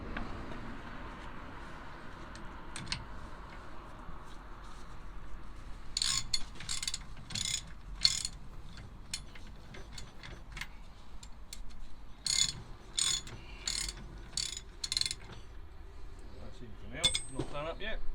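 Ratchet wrench winding a nut onto a Citroen 2CV steering rack, with rapid bursts of clicking in several runs, close but fairly quiet over faint workshop background.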